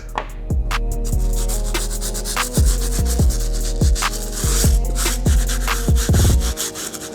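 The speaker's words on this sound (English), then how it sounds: "So I'll go ahead and use the stiff bristle brush." A stiff bristle brush scrubs the sole of an Air Jordan 1 Travis Scott sneaker in quick, rhythmic back-and-forth strokes, each a close, raspy rub, with no speech.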